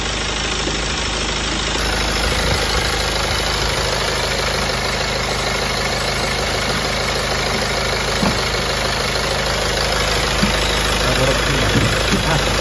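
A BMW E90 with the 2.0-litre N47 diesel idles close by, a steady grumbling drone with a faint knocking clatter running through it, continuous and fairly loud, with no talk over it.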